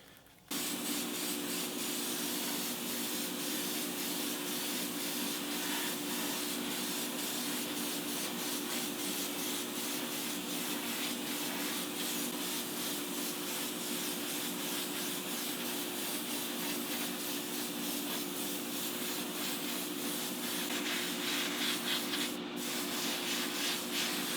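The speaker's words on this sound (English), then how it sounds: "So I've absolutely blasted this with our aluminum flake base to make it light reactive as possible." Spray gun laying aluminum flake base coat onto a 1:18 scale 1950 Merc custom woody model car, a continuous loud airy hiss held steadily for over twenty seconds with a faint tonal hum beneath.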